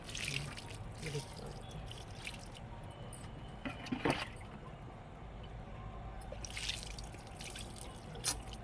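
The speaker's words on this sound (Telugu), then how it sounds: "రెండు రోజుల తర్వాత తీసిపెట్టిన బియ్యం కడిగిన నీళ్ళు పుల్లగా ఉంటాయి కదా పులిసిపోయిన వాటర్ ఇది" Soured rice-washing water is poured onto homemade compost of dry leaves and kitchen waste. Soft dripping and trickling run through the clip, faint and intermittent, with a couple of louder splashes.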